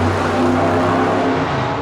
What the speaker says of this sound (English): you can hear the cars going off behind me right now